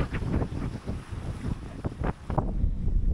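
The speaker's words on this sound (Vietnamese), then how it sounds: "Mưa thì ít nhưng mà dông gió thổi rất là lớn nha mọi người" Strong, gusty wind buffets the microphone at a lakeside campsite on Tri An Lake during a squall, a continuous loud low roar swelling and easing in waves with no voices.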